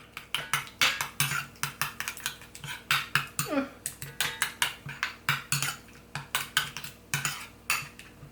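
A utensil stirs tomato paste water with thyme in a bowl, making a rapid, regular run of close clinking scrapes against the bowl that continues without pause, with no voices.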